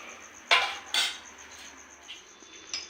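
Tomato soup ladled from a cooking pot into a bowl, marked by a couple of sharp metallic clinks of ladle against pot, then fainter scrapes and a last light tap, close up and quiet otherwise.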